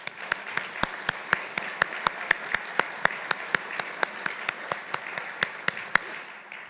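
Scattered, sparse clapping from a small audience at a university administrative service awards ceremony, individual claps sharp and steady at an even pace over a light background murmur.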